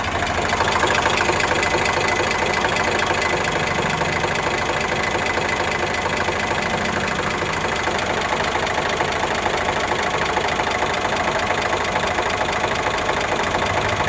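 A 2017 Eicher 368 tractor with a Ricardo engine idling, a loud, steady diesel chug with a continuous rhythmic knock and vibration, close up and without talk.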